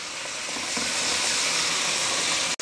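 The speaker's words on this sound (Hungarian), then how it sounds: "folyamatosan lehet fordítani a húsokat, annál szebben és jobban sülnek elő" Pork neck steaks fry in a hot pan, giving a loud, dense, continuous sizzle up close, steady throughout, then cutting off sharply at the very end.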